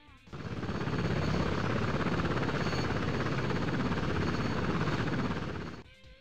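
A helicopter in the point-and-click game Hopkins FBI thrums with a steady, loud rotor chop that starts abruptly, holds for several seconds and cuts off sharply, with no one talking over it.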